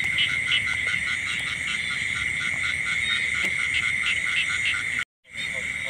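Field frogs croak in a steady, pulsing chorus at night during frog hunting, with a constant high trill over a low rumble that drops out briefly near the end.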